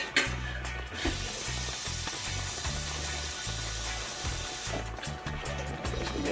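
Water poured into a hot pan of Jamaican brown stew fish, a steady wash of sizzling and bubbling liquid that runs continuously and fairly loud, with a low hum underneath.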